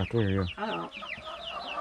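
Chickens clucking in a coop at close range, a burst of calls with harmonic, squawky notes followed by softer chatter, under brief talk from people nearby.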